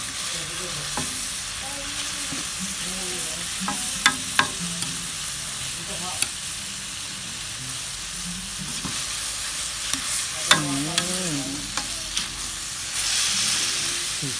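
Onion sizzles steadily in a hot pan while a utensil scrapes and stirs it at intervals, with faint voices murmuring under the frying.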